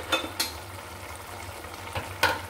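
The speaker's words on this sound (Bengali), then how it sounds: "তারপরে থাকছে কই মাছ ভাজি।" Koi fish fry in a pan on a stove with a steady, close sizzle, broken by a few sharp clinks and scrapes as they are stirred.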